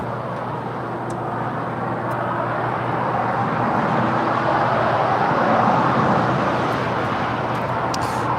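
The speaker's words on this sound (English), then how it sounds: "The KLM Dreamliner will be making her way to the hottest club by making a left-hand turn on the taxiway Lima." KLM Boeing 787 Dreamliner taxiing at LAX, a continuous jet engine whine and rumble that swells slightly and then eases, steady and moderately distant with no voices.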